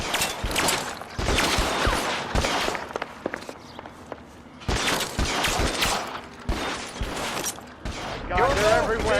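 Gunfire in LA Noire: rapid bursts of shots crackle in clusters with pauses between, mixed with footsteps and a shootout's clatter.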